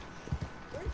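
Horse hooves clip-clopping in a Western open-world video game, three or four quick, close hoof strikes in a brief, faint burst with no talking.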